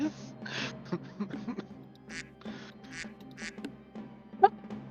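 Around a tabletop role-playing game, a person imitates a bird's squawk with a series of short, nasal, quack-like bursts of uneven rhythm, then ends on one sharper squawk.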